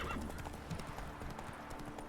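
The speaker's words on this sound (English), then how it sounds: "Those are wild horses." Wild horses in The Witcher 3 on the Skellige isle of Ard Skellig: faint hooves clopping steadily with a brief whinny near the start, all quiet and distant.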